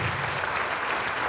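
Church congregation applauding together during a worship service, a steady, dense wash of clapping that fills the whole moment without a pause.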